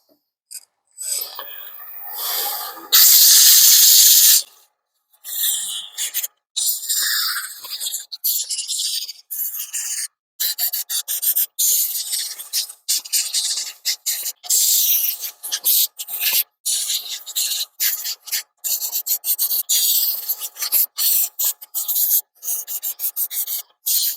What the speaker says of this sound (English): So let's do a little sanding. We'll start out with 180 grit and work our way up through the grits from there.